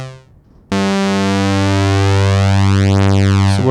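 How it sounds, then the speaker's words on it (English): A DSI Pro 2 lead patch plays one sustained tone from two oppositely detuned sawtooth oscillators, starting abruptly after brief quiet and holding loud and steady with a slowly sweeping, phasing shimmer for about three seconds. "So we have this like evolving, phasey kind of sound, which adds character."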